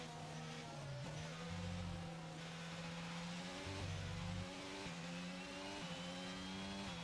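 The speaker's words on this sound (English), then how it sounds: "I'm trying to let this car pass" Race car engines in F1 22 droning steadily with harmonic whine, one car closing in and passing as the pitch shifts, a continuous loud engine bed throughout with no talk.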